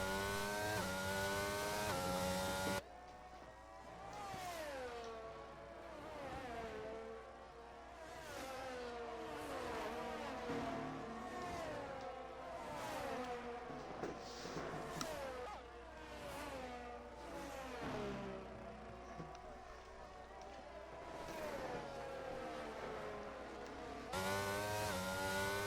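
Group of six race cars on track, engines whining and revving through gear shifts with overlapping pitch sweeps, a steady continuous roar at moderate level, no voices.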